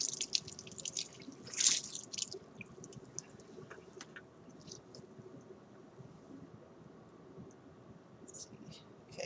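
Water sprays and drips from a hose that has popped off a lab condenser at the sink, with a sharp splash early on and then softer intermittent trickling, close by.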